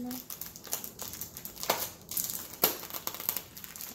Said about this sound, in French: je vais ouvrir ce, papier bulle